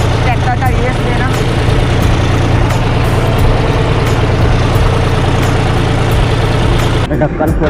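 A tractor engine idles with a steady low rumble while the machine reverses, loud and close throughout, with a voice talking over it.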